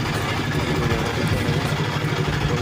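A trawler boat's engine runs steadily and loud, a continuous low rumbling drone with mechanical clatter, no talking over it.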